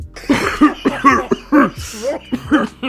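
A voice imitates heavy coughing in a run of rough, bursting coughs, close and loud, with brief gasps between them.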